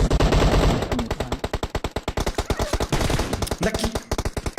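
Rapid bursts of automatic machine gun fire from a shooter video game rattle loudly and continuously, with dense rhythmic shots crowding the whole stretch.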